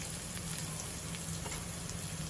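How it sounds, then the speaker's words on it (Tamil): Crushed garlic and curry leaves sauté in hot oil for beetroot poriyal, giving a steady close crackling sizzle with no talk. "நல்லா எண்ணெயில் வதக்குங்க."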